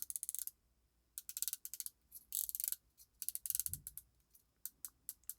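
Oris Aquis Date Calibre 400 dive watch bezel being turned, giving a run of crisp, close ratcheting clicks in quick bursts separated by short pauses, with no talking.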